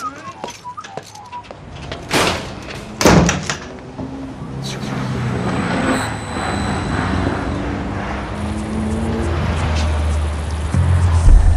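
A door slams shut with two heavy, sharp thuds close by, followed by a steady broad rumble and hiss.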